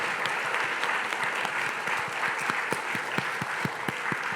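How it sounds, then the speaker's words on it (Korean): Church congregation applauding during a live special dawn prayer service, a steady dense wash of clapping throughout with some individual claps standing out sharply near the microphone. "어느 때보다 박수 소리가 큰 것 같습니다"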